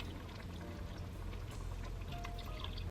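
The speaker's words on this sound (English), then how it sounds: "Add your beef broth." Beef broth pours steadily into a pot holding diced and crushed tomatoes with seasoning, a continuous close liquid rush with faint splashing throughout.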